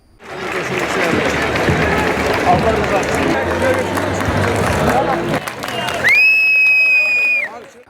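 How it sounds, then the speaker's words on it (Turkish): Citizens applaud and cheer a mayor's procession at a centuries-old traditional festival, a loud continuous mix of clapping, cheers and crowd babble, with a whistle-like tone toward the end. "Başkan Ergün'e büyük ilgi gösteren vatandaşlar alkış ve tezahüratlarla sevgi gösterisinde bulundu"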